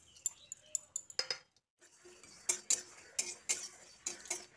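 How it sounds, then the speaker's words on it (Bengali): Five-spice seeds, mustard seeds and a dried red chilli dry-roasting in an empty pan for Bengali sukto, heard as sparse, sharp little ticks and clinks of seeds and utensil, close and faint, with a brief silent gap. "এবার এতে 5 ফোড়ন, সর্ষে আর একটা শুকনো লঙ্কা শুকনো খোলায় ভেজে নেব।"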